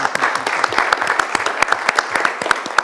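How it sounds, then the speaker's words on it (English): Applause from the audience at a city commission meeting, with individual hand claps standing out in a brisk, irregular patter, fairly close and loud. "I think she deserves applause for this"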